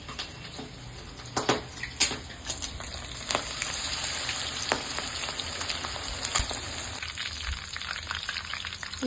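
Chicken lollipop drumsticks frying in hot oil in a pan, a steady close sizzle with scattered sharp crackles and pops throughout, no voices.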